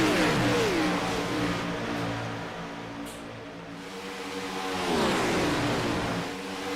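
A race car engine at a NSRA track event at Monza sweeps past, revving then dropping in pitch as the driver lifts off the gas into corners, fading and swelling again as another pass approaches.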